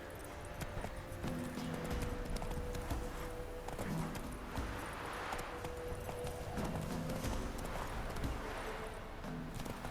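Hooves of the horse Roach clip-clop steadily at a gallop in The Witcher 3 video game, a continuous rhythmic beat running the whole time over a layer of game ambience.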